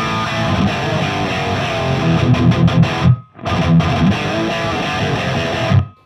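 Heavily distorted electric guitar through an AMT R2 pedal and AMT Pangaea amp-simulator impulse, chugging and ringing chords, loud and close, with a brief sharp cutoff midway before the crunchy riffing resumes.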